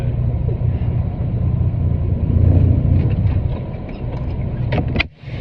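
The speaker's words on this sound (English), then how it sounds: "I'll perform a tug test where my trailer brake should hold my trailer." A tractor-trailer's diesel engine runs through a trailer-brake tug test: a loud, steady low rumble that swells briefly midway, with a short clatter and a sudden dip near the end.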